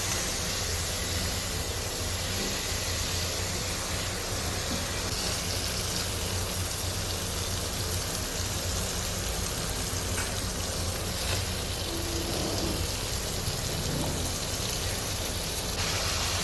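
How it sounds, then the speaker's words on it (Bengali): Potatoes cooked down with spices and a splash of water in a pan, giving a steady, dense sizzling hiss that runs unbroken and fairly close, with no talking. "এবার সমস্ত মশলা দিয়ে আলুটাকে ভালো করে কষিয়ে নিচ্ছি।"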